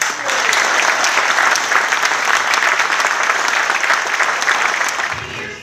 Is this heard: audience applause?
yes